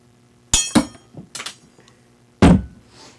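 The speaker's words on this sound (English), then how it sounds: "Sorry for that bang there. Whacking on the microphone." Several hard knocks and bangs on the surface a microphone rests on, loud and close, with sharp clattering hits in irregular bursts separated by near silence.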